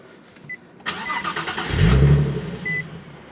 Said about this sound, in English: let's go ahead and fire the car up and let you hear that Borla exhaust real quick